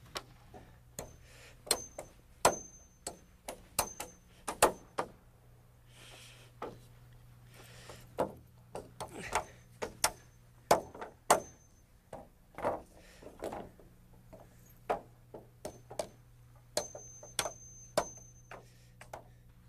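Hammer blows driving 16-penny nails into wooden floor joists and a girder, ringing out as sharp, uneven strikes in quick clusters with short pauses, close and fairly loud, with a steady low hum underneath.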